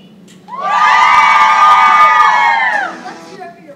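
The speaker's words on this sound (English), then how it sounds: "Listen to that crowd!" School drama audience at a winter play erupts in loud cheering, shouting and whooping for about two and a half seconds, then fades back to quiet.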